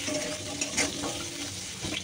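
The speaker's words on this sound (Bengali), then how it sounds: "আগে আলুটা ভেজে নিই, তারপর ভেন্ডিটা ভাজবো।" Potato pieces sprinkled with a little salt fry in oil in a kadai, giving a steady, close, dense sizzle and crackle that runs throughout with no voices.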